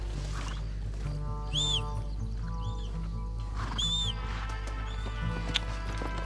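A horse in the video game Red Dead Redemption whinnies twice amid clopping hooves and a rumbling train in the background, with a sharp whistle-like cry near the end and no talking.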